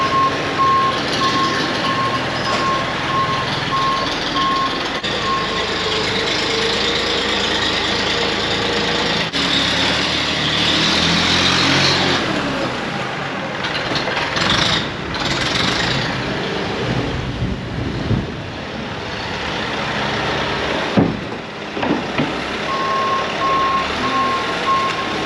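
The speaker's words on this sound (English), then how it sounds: "John's going to bring some in with the scraper tractor" A scraper tractor reversing on a farm during calving season, its loud rhythmic reversing beeps sounding over a rumbling engine close by, steady for about twenty-five seconds with no talk.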